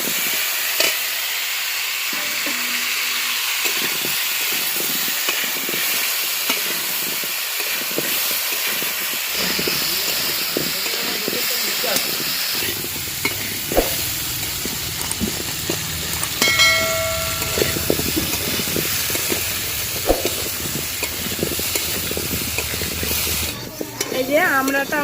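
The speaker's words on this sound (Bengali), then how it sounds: "এবার অল্প অল্প আঁচ দিয়ে আমড়াগুলোকে কষিয়ে নেব" Hog plums (amra) for a sweet-sour-spicy village-style pickle are stirred over low heat in a pan, giving a steady hiss and sizzle with repeated scraping strokes throughout, rising and shifting in texture midway.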